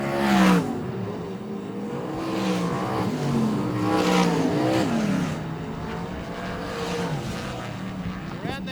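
Modified race cars roar around Greenstone Park Speedway, engines rising and falling in pitch as they pass, with an announcer talking over the continuous motor noise.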